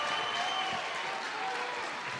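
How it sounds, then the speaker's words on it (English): A crowd at a college baseball game between Florida and Alabama, heard as steady, broad applause and cheering that holds from start to end. It comes from the stands at a distance, with no single voice standing out. "Definitely some new energy in this crowd."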